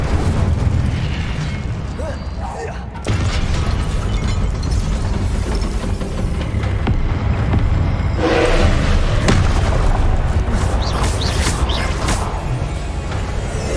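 Incendio fire spells blast in Hogwarts Legacy as repeated loud booms and fiery bursts, thudding over a dense, roaring combat rumble for the whole stretch.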